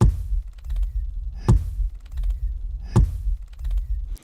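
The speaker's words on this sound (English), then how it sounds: "Then I've got this thumper sound, you know, the thing they activate to attract these big ass worms." The Dune film's thumper strikes the sand on top, recorded with mics in the sand: three evenly spaced, heavy, low thuds about one and a half seconds apart, each followed by a booming resonant tail.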